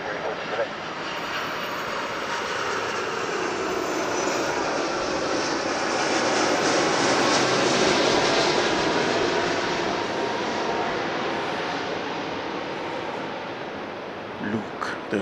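A Star Alliance airliner arriving at LAX roars steadily overhead, its engine noise swelling to a peak in the middle of the clip and then slowly fading. Air traffic radio chatter and people talking can be heard underneath.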